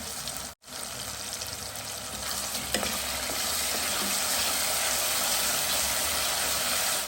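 Tomatoes, onion, garlic and ginger fry in oil for an aubergine oro, a steady dense sizzle running throughout, broken by a brief dropout near the start and a single clink of a stirring spoon.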